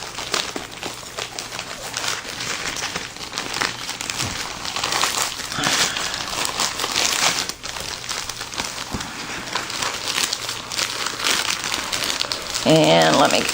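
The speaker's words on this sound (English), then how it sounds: "Sorry for the crinkle." Plastic packaging crinkles as paper craft pads are slid back inside: close rustling and crackling that comes and goes under a woman's speech, with a louder burst near the end.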